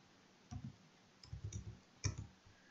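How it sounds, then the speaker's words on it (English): Computer mouse button clicks, a few faint, close taps in small clusters, including a quick double click, in an otherwise quiet room. "So I just double click the code window."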